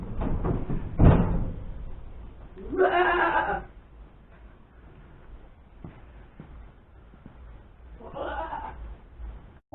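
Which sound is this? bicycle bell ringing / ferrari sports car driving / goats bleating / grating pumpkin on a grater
goats bleating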